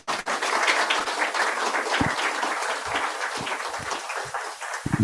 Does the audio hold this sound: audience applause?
yes